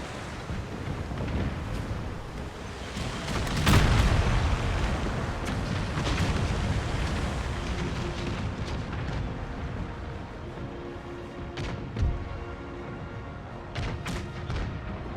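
Naval cannon fire in Empire Total War, a strategy game sea battle, with deep booming broadsides and thuds rolling over a continuous low rumble, one heavy blast standing out early and scattered distant shots after.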